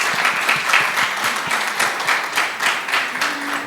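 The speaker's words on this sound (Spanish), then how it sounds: "Un aplauso importante" An audience at a cultural travel workshop in Quindío, Colombia, gives the panelists a loud, close round of applause, many hands clapping steadily throughout with slight swells.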